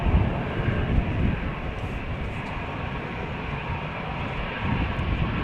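Aircraft approaching the runway at Amsterdam Schiphol Airport in wet, windy weather, a steady broadband jet roar heard from outdoors that swells slightly at the start and end.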